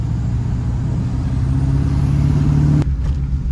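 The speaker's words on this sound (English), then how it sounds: "you can definitely tell there's the turbo lag in there, but once it hits, man." LB7 Duramax diesel pickup truck with an aftermarket intake accelerating on wet roads, a loud steady engine drone rising in pitch with turbo spool, then cutting off sharply near the end.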